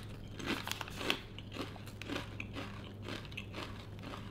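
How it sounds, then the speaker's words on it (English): Mi Goreng flavored potato chips bitten and crunched up close, a steady run of crisp, crackly crunches spread over a few seconds with no talking. "let's taste this MI GORENG potato chip."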